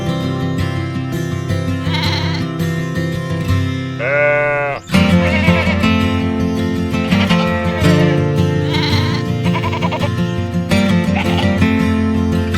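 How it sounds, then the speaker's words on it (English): Farm sheep bleat in a continuous, loud, close layered chorus of wavering cries, broken by a brief sharp rising bleat and a momentary drop before the chorus resumes. "What do sheep do?"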